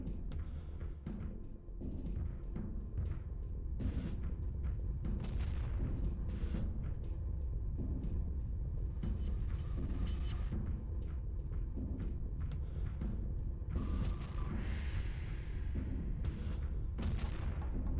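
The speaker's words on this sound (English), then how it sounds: "This room's got like explosion noises." Continuous booming explosions and gunfire-like blasts fill a room in the N64 shooter Armorines: Project S.W.A.R.M., dense and repetitive over a low rumbling background.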